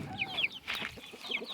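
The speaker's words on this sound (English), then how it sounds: "Most of these chickens inside here right now were all hatched by us." Chickens in a coop cluck and chirp in a few short bursts, moderately close against a quiet farm background, no voices.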